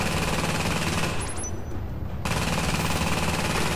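An automated turret firing in a video game, a steady, continuous stream of rapid shots that drops out briefly and resumes, loud and constant without voices.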